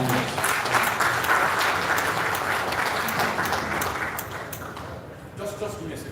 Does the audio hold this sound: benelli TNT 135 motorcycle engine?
no